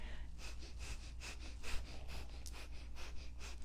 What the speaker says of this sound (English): we're still doing the breath of fire